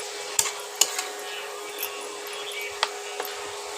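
Onions and tomato in a pan for a Bengali onion-poppy-seed dish, stirred with a utensil that gives several sharp clinks and scrapes over a soft steady sizzle, close by.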